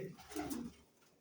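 A pigeon gives a soft, low cooing call, close by and quiet, fading out after about a second.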